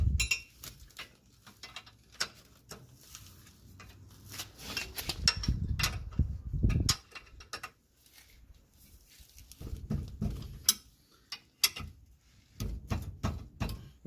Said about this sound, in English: let's tighten up these bolts for the brackets. This is a 14 millimeter